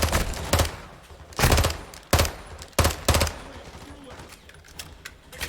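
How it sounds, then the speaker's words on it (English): Submachine gun fire in Modern Warfare 2, a handful of short sharp bursts spaced irregularly, fairly loud over quieter game background. "Didn't know I had this. I guess it's an SMG."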